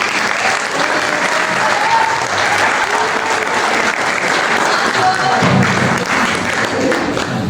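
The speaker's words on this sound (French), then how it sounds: "bravo, les applaudissements très fort." An audience at a third-grade primary school show claps loudly and continuously, a dense, close, sustained burst of applause lasting several seconds.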